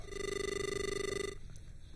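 A telephone rings steadily and loudly through a phone line while a television news presenter tries to reach a guest on air, the ringing tone cutting off near the end and leaving faint line noise.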